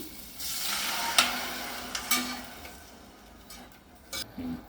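Tamarind extract poured into a hot pan with ginger-cumin paste hisses sharply at first, then settles into a softer sizzle broken by a few brief utensil clicks, no talk.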